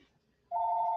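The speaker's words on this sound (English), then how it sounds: "I'm not answering the phone." A telephone rings with a single steady electronic tone that starts halfway through and holds loud and clear until the end.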